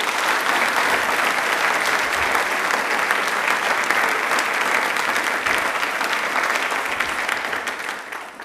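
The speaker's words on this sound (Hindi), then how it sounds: "तालियां एक बार जोरदार।" A studio audience at a televised quiz programme claps loudly and steadily for several seconds, a dense wash of applause that begins to fade at the very end.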